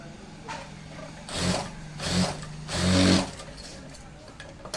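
A sewing machine stitching fabric in three short whirring bursts, each a second or less, close by with quiet pauses between.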